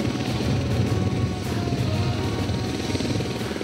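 A training helicopter lifting off during an introductory piloting session, its rotor throbbing in a steady, loud, close drone of blade chop and engine roar with no other sounds.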